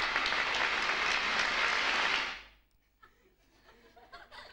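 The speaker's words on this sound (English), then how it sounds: "What did they do for a clap? They just go to this black box." Recorded applause from a black box: a dense burst of clapping at close range, lasting about two seconds before cutting off abruptly into near silence with faint room noise.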